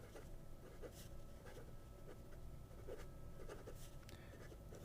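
An old fountain pen with its original old-style nib scratches softly across paper in close, faint strokes, a light continuous scritching with small pauses.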